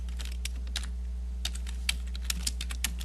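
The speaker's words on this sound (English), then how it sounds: "I'm just going to type in" Keys clacking on a computer keyboard while text is typed into a document, a steady series of sharp, close clicks in irregular bursts over a faint constant hum.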